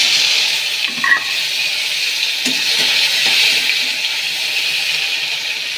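Chopped tomatoes fry in oil in a pan for vegetarian khichdi, giving a steady close sizzle throughout with a few soft scraping stirs and no talking.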